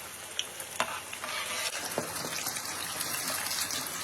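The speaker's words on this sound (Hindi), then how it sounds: "इसको तब तक फ्राई करिए जब तक ये गोल्डन क्रिस्पी से नहीं हो जाते" Paneer popcorn frying in hot oil gives a steady close sizzle with sharp crackles and pops scattered throughout, and no talking.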